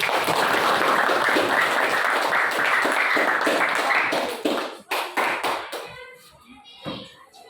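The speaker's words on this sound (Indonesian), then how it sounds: "Berikan aplaus untuk kelompok melatih" A classroom crowd of children gives a dense burst of clapping for a presenting group, fading into scattered separate claps before dying away.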